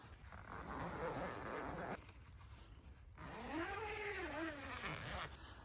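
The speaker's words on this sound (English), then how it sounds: "there's a zipper on either side. So just pull the zippers up" Two long zipper pulls on a ground blind, each a rasping sweep lasting about two seconds, with a short pause between them, close by and fairly loud.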